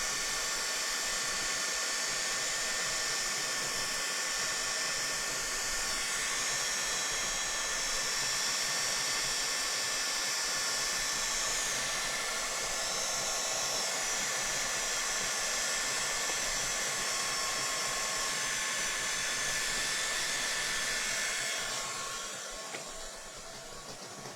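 A heat gun blows continuously while crafting an MDF boat storage shelf, a loud, steady whooshing roar close by that holds for the whole stretch and eases slightly at the end, with no talking.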